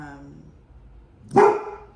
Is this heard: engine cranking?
no